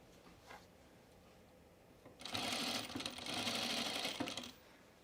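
A sewing machine stitches a flat felled seam on a garment in two quick bursts, a close rapid whirring that starts sharply after a quiet pause and runs for a couple of seconds.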